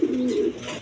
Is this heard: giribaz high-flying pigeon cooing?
yes